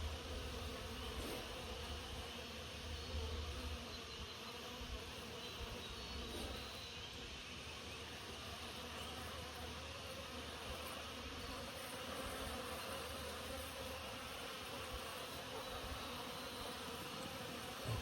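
Wasps buzzing steadily around their nest outdoors, a dense continuous drone of many insects close by that holds level throughout without any talk.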